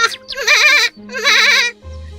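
A cartoon goat gives two loud, wavering bleats in close succession, clean and up front with no other sounds around them.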